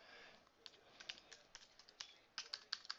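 Someone types a web search on a computer keyboard, a quiet, uneven run of key clicks that quickens into a short burst near the end, with no voices.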